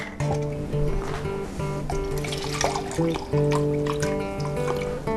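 Water poured into a blender alongside yogurt, sugar and lemon juice for a mango lemon shake, a close, steady trickle and splash over a constant tonal hum.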